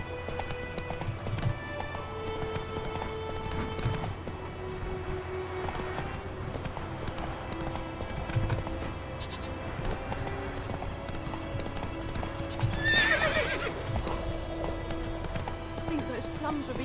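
Roach, a horse in The Witcher 3, trots along with steady clip-clop hoofbeats under a low ambient game soundscape, with a brief whinny or rider sound near the end.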